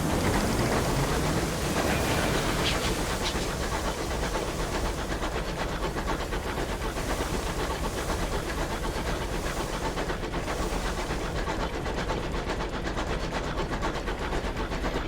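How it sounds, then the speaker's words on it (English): Steam train running continuously in the video game Sunless Skies, a steady loud chugging rumble with hiss that persists throughout with no talk. "I almost want a faster train."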